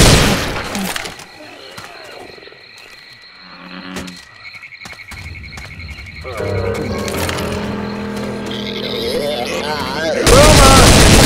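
Gunfire in Left 4 Dead 2 in a swamp setting, bursts of shots breaking over frog-like croaking and ambient noise, with louder blasts toward the end.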